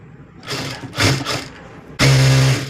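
A sewing machine stitching a blouse runs in a few short bursts, then settles into one louder, steady whirring run of about half a second with a firm motor hum.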